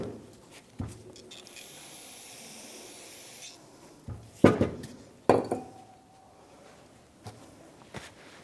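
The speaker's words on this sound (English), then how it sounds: "I'm just gonna take my brake clean, give it a quick rinse" Aerosol brake cleaner hisses in a steady spray for a few seconds while rinsing front brake parts on a 2015-2024 Jeep Renegade, followed by sharp metallic clinks and knocks of parts being handled nearby.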